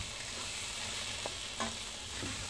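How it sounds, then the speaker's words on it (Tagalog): Carrots and potatoes fry in a hot pan, giving a faint, even sizzle with a few soft knocks from stirring. "magpainit tayo ng kawali at iprito muna natin yung ating carrots at ang ating patatas"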